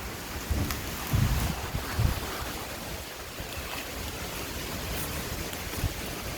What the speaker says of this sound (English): Still raining, y'all.